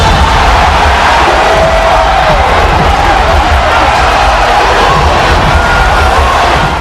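Packed arena crowd in St. Louis roaring for a boxer's ring entrance alongside a rapper, a dense, continuous loud cheer with whoops and shouts blending into a wall of noise.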